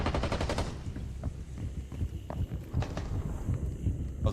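Rapid gunfire bursts and sharp shots from the video game Rainbow Six Siege, with a frag grenade thrown, crackle in quick clusters under a dense, continuous game mix of loud low rumble.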